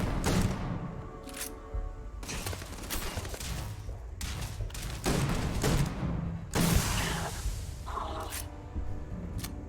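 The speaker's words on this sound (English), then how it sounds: "let's use this shotgun and get the combat over with" Shotgun blasts in a Starfield combat encounter, a string of loud, close booming shots at irregular intervals amid game action noise.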